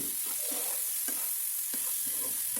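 Bitter gourd curry in a pan gets tomatoes stirred in, giving soft, steady sizzling with a few scraping strokes of a spoon at intervals, close and fairly quiet, with no talking.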